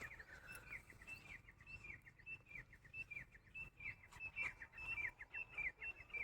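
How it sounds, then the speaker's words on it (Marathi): Many small birds chirp and tweet busily near a farm field, a dense overlapping chatter of short high calls over faint background noise, with no talking. "पक्ष्यांचा किती कालवा सुरू आहे"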